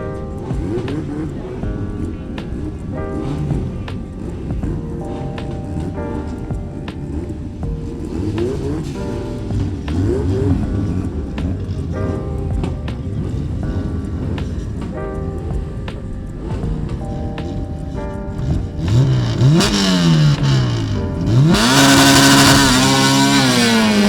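Drag racing at Drag Rivals 2025 in Jamaica: an all-motor Honda Civic SiR with a B20 engine and a turbo B-series car in the right lane. Loud, continuous engine roar throughout, rising to high-revving bursts near the end.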